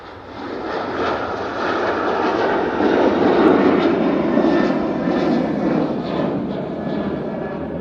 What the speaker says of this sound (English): That's the 737-800 off to Larnaca.